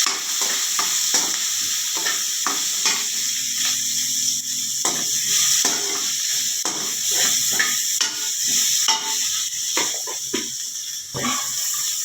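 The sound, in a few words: onions and ridge gourd frying and stirred in a pan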